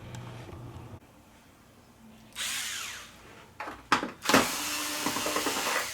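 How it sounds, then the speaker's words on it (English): Power screwdriver with a Phillips bit backing screws out of the rear cover of an RCA 65-inch LED TV, model RWOSU6547: a quiet low whir, then bursts of loud high-pitched motor whine, close up, without talk. "So let's just take the screws out and see what we get."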